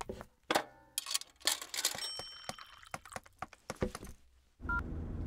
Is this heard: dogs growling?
no